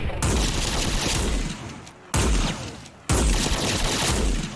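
A lever-action Winchester 1887 shotgun fires in the Fallout 4 video game, loud booming blasts in rapid succession with two abrupt restarts as shots cut in, dense and reverberant with no talk.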